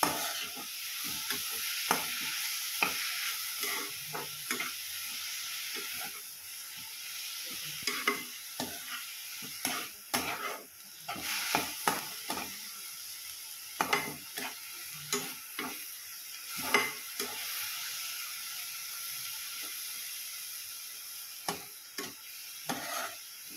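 Chopped spinach thecha sizzles steadily in a hot pan over a full gas flame while a spoon scrapes and stirs in frequent irregular strokes, close and fairly loud with no talking.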